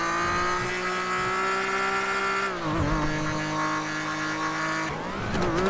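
Car engine revving loudly in GTA RP, a sustained throaty drone with pitch dips at gear shifts near two and a half and five seconds, close and continuous, no talk over it.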